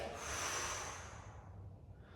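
One long, breathy exhale rushes out close to the microphone during a slow stretching and mobility exercise, loud at first and then fading into quiet room tone.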